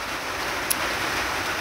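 Rain falls steadily, a dense and even hiss holding at a constant level for the whole stretch with no talking over it.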